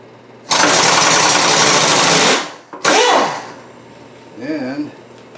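A loud air compressor in a machine shop roars close by for about two seconds, cuts out, and gives a brief second blast, followed by a short stretch of voice.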